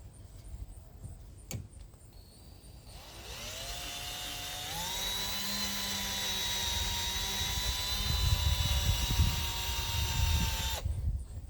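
Power drill boring out a stubborn rivet on a BMW Z3 convertible top frame: a loud, steady high-pitched motor whine starts a few seconds in, climbs slightly in pitch and grinds on for about eight seconds before stopping.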